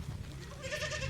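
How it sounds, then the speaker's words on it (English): A goat gives one wavering bleat, fairly close and moderately loud, over low background noise on a small farm during morning milking. "So this is the other goat."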